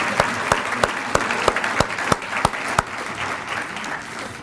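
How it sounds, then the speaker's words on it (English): An audience at a high school athletic Hall of Fame ceremony applauds an inductee, dense steady clapping with a few sharp individual claps standing out, filling the room for several seconds. "One more round of applause for Judy and our Hall of Fame inductee"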